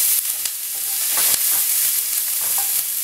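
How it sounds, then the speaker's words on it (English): Onion sautés in a hot pan for a corn and chickpea chowder. A bright continuous sizzle runs throughout, with a few sharp scraping stirs cutting through near the start and middle. "Just saute that onion just until it's clear, just to make it nice and sweet."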